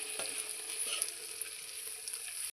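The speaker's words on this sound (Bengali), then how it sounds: "এবার আমি মশলাগুলো ভালোভাবে ভেজে নিচ্ছি।" Ground turmeric, coriander and cumin powders sizzle steadily in a pan, a continuous bright frying hiss with small crackles and stirring scrapes, close and alone.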